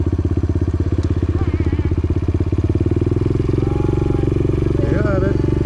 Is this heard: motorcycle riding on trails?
yes